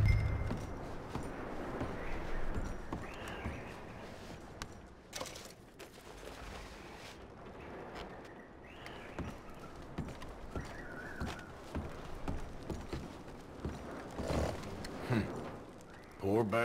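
Horses walking in Red Dead Redemption 2, hooves clip-clopping in a steady uneven rhythm at moderate distance, mixed with game ambience, occasional louder thuds and voices talking over them throughout.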